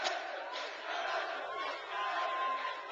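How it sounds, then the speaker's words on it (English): The Gonzaga student section roars at a basketball game, a dense, sustained crowd cheer swelling twice, heard at a moderate distance with no clear talk over it. "the Gonzaga cheering session getting into the game here"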